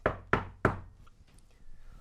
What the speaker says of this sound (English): hopefully soon, knock on wood